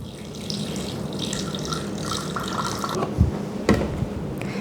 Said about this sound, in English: We're adding water. So 150 grams of water.